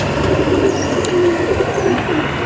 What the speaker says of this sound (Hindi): ये कबूतर है जिसका आपको शौक करा है